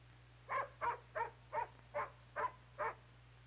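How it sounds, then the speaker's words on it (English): A dog in a vintage 16mm educational film gives a regular run of seven short, even whimpers or yelps, close and fairly clear, over a steady low hum, with no talking. "looks like the Johnsons have a new dog."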